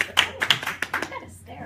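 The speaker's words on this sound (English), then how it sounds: "I should get at least as much applause as Ed got." A few scattered, sharp hand claps from a small audience at a meeting presentation, brief and uneven rather than sustained, with voices mixed in.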